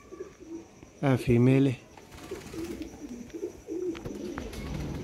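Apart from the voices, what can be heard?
pigeons cooing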